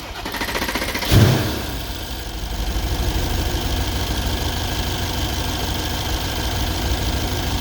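A 2012 Mercedes CLS 63 with 137k km fires up with a loud crank burst, then settles into a steady, close, rumbling idle that holds evenly to the end.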